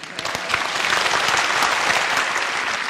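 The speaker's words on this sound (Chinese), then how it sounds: "此处应有掌声啊！" A studio audience on a TV job-hunting show breaks into applause. The clapping starts scattered, then swells into a full, steady ovation.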